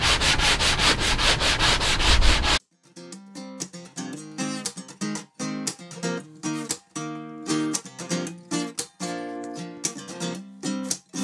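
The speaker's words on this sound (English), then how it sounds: "So I'm just gonna lightly sand it." A painted camper cushion lightly sanded with a 120-grit sanding block: a loud, close back-and-forth rubbing scratch in quick strokes, a dense burst at first, then short rhythmic passes with brief pauses, no voice.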